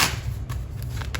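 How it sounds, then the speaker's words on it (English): A deck of tarot cards is shuffled in a short, quiet, papery riffle close by. "I'm going to shuffle some more cards."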